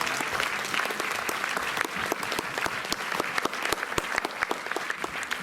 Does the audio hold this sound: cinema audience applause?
yes